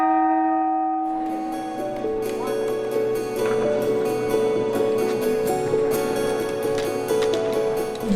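Church bell rung by pulling its rope inside a church, ringing steadily with sustained overlapping metallic tones and a continuous resonant hum, close and loud with no one speaking.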